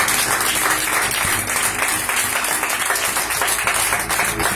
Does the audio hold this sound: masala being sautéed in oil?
no